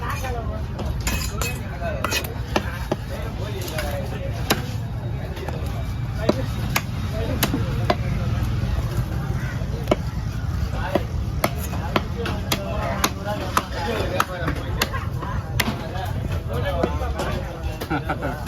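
A knife chops through a kozhi meen fish on a cutting board, cutting it into slices at a fish market in Kasimedu: a steady run of sharp close taps under constant crowd babble and talking.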